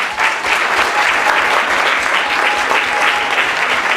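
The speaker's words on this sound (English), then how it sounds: "Round of applause for Laura." An audience at a poetry slam at the Wenlock Poetry Festival applauds steadily, a dense, loud clapping that keeps going without a break and with no talk over it.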